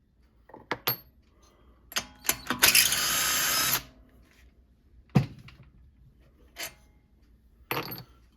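A power tool spins off rusted wheel bolts in short bursts, one longer loud whir in the middle, with clanks and thunks of bolts and metal between runs, close by.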